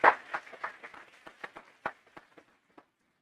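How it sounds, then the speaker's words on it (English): Applause from an audience at an international social work conference, starting with a loud burst of clapping that thins into scattered, fading claps over about three seconds. "A big round of applause for them."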